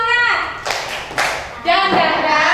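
Children in a classroom do the rhythmic 'tepuk semangat' spirit clap, sharp claps in short patterned bursts interleaved with loud chanted syllables, close and lively.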